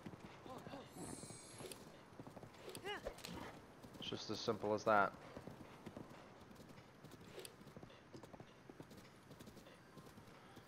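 Brown horse's hooves clip-clop at a steady trot in a video game, with a brief whinny partway through, while someone talks over the hoofbeats throughout.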